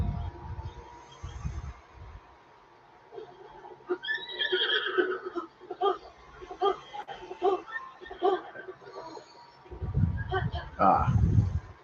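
A horse in the video game Zelda: Breath of the Wild whinnies in a long, wavering neigh, with a voice talking before and after it and a few thuds at the end.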